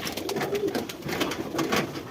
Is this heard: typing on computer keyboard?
no